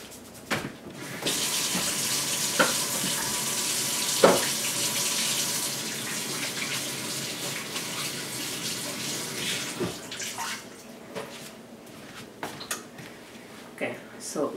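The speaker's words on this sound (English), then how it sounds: "Let me wash my hands." Running tap water pours steadily into a kitchen sink as hands are washed, a broad continuous hiss lasting most of the clip, with occasional clinks and light kitchen sounds over it.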